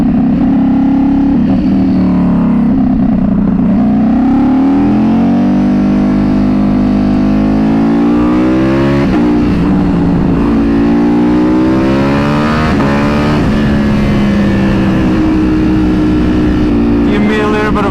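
A Ducati Panigale V4 motorcycle accelerates hard on the road, its loud, close engine roaring continuously as the pitch climbs and drops through repeated pulls.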